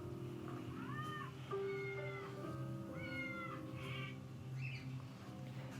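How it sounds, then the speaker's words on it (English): A mother cat meows repeatedly at her three newborn kittens, several short rising-and-falling meows spaced irregularly over a soft constant background hum, fairly close and quiet. "She also began meowing and purring at them."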